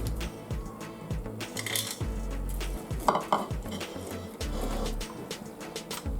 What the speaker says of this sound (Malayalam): നമുക്കിത് വിസ്ക് ചെയ്തെടുക്കാം